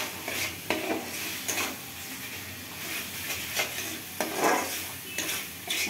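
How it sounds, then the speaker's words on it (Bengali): Spices, ground black pepper among them, being stirred and mixed in a pan for a home-cooked rajma curry, giving steady scraping and stirring strokes over a soft sizzle and hiss, close and moderately loud, with no talking. "এখন এগুলোকে ভালো করে মিক্স করে নেব।"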